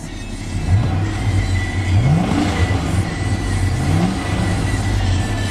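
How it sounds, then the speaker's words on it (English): The V8 of a lifted 2004 GMC Yukon XL 1500 SLE on large tires revs several times from idle, each rise in pitch sweeping up and falling back, loud and close over a constant low rumble. "Revs up nicely, out as smoothly."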